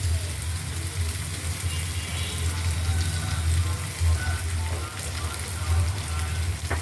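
Lentils (dal) sizzle in a hot pan, a steady crackling hiss that runs continuously and fairly loud, with a low rumble underneath and no talking.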